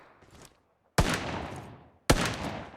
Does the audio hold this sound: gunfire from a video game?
yes